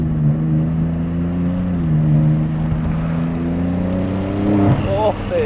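A BMW M4 Competition tuned to 800 hp, fitted with a Remus exhaust, drones steadily from inside the cabin and rises briefly near the end, with someone talking over it.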